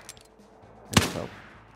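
A single sharp, close gunshot cracks out from a Wild West Online shooter game, followed by a softer trailing echo and faint background noise.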